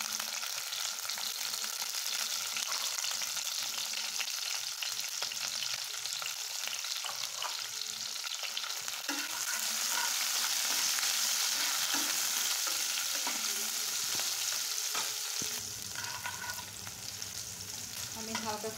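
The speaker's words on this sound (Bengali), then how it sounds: "আমি হালকা করে পেঁয়াজ রসুনটা ভেজে নিচ্ছি।" Chopped onion, garlic and green chillies fry in hot oil in a kadai on a stove, a close, steady sizzle with occasional stirring scrapes.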